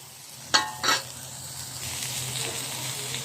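Dried salted fish dropped into a hot, blackened wok, giving two sharp clanks and bursts of sizzle, then a steady frying hiss that settles and carries on at close range.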